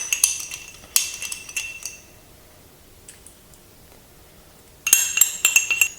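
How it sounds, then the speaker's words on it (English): Beef marinade with baking soda and liquids being mixed in a bowl gives off bright clinks and clatters in two bursts, with a quiet pause between them. "Mix them well."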